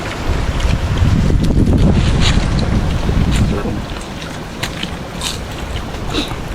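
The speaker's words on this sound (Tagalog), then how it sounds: "Grabe hangin, no? Hangin." Strong wind blows hard on a shore, a loud roaring buffet against the microphone that is heaviest early, then eases off while gusts keep rushing through.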